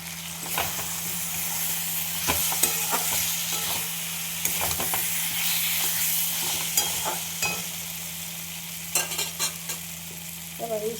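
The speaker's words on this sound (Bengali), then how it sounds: "মশলাটা কষানো হয়ে গেছে, ভেজে রেখেছিলাম এই আলুগুলো আমি দিয়ে দেবো।" Fried potatoes tossed into a spice masala sizzle steadily in the pan, with repeated scraping stirs and clatters of the spoon, close and continuous, with no one speaking.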